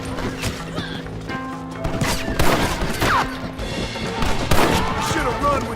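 Gunfire shootout in the Red Dead Redemption video game: a rapid series of sharp shots and impacts over several seconds, with other game sounds mixed in and no clear voices.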